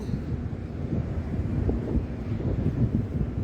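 Steady outdoor wind gusting against the microphone during a walk at a new location, a continuous low rumble with no speech.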